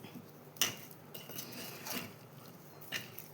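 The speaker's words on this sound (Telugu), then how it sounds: "ఇప్పుడు దీన్ని అంతా కిందకి పైకి ఒకసారి బాగా కలుపుకోవాలి." A spoon stirs lemon pickle in a container, making a few faint scattered clinks and scrapes against quiet background.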